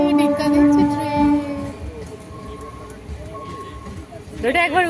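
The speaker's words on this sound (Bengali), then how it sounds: "ট্রেন যাচ্ছে, ডিক্কা দিচ্ছে ট্রেন।" A train rumbles past with tonal horn-like hums and rattling, loud at the start then steady, while someone talks over it.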